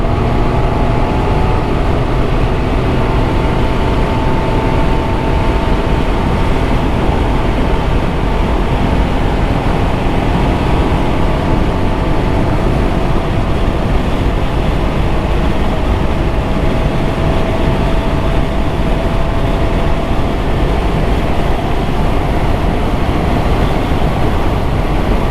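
A Can-Am Ryker with a CVT transmission accelerates hard, its engine held at high revs as a steady, loud drone with a faint whine that slowly climbs, all buried in constant road and wind roar.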